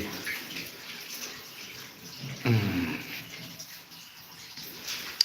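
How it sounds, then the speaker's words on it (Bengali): Water overflowing and splashing at a temple drainage outlet, a continuous rushing wash at moderate distance with a brief louder surge midway. "এই জল উপচে পড়ছে রে এগুলো বন্ধ করি"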